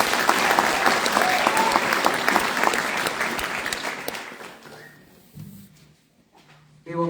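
An FFA ceremony audience gives an honorary member a loud, full round of applause that thins out and dies away after about five seconds, leaving a few scattered knocks and shuffles.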